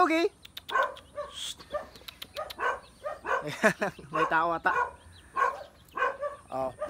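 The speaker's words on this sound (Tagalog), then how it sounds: "Kaya pala maingay yung aso." A dog barks a few times in the background while people talk loudly nearby throughout.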